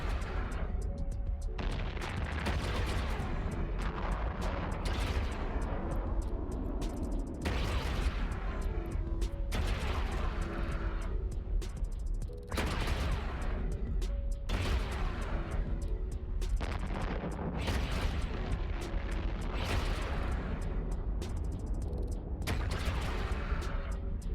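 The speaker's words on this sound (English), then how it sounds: "Awesome explosion." Explosions and weapon blasts in the space game EVE Online, a dense run of loud booming bursts roughly every couple of seconds over a continuous rumbling din, with no talk.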